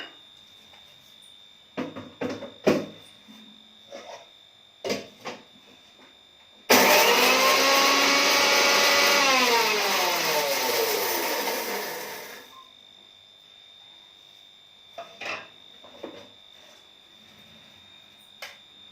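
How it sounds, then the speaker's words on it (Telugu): A mixer grinder whirs loudly for about six seconds as it grinds dried red chillies, cumin and garlic, steady and roaring with a slight pitch change, with faint clicks and handling knocks before and after. "ఫస్ట్ ఎండుమిరపకాయలు, జీలకర్ర కొద్దిగా, అలాగే వెల్లుల్లి ఇవి గ్రైండ్ చేసుకోవాలండి."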